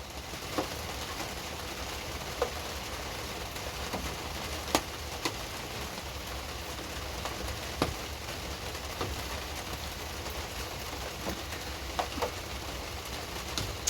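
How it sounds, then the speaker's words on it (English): Steady rain hisses continuously on a pigeon loft, with occasional sharper drips and taps standing out against the wash. "Hope the rain noise isn't too loud."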